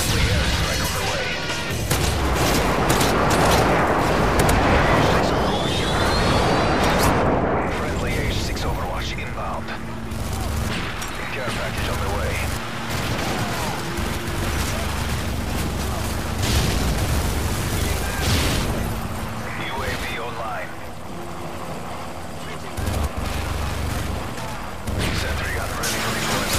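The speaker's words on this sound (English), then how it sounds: "Friendly airstrike on the way." Gunfire and airstrike explosions in Call of Duty: MW3, a dense barrage of rumbling blasts and rattling shots, loudest early on, then continuing steadily as scattered bursts and booms with voices talking over the battle.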